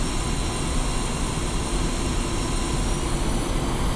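Jet engine roar from an aircraft taxiing toward the runway in the flight simulator game DCS World, a loud, steady, unbroken whine and rumble filling the whole stretch.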